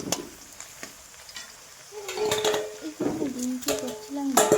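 Potato slices frying in a pan at home, a soft continuous sizzle broken by clattering utensil scrapes and pan knocks, with faint voices and some tonal kitchen noise in the background.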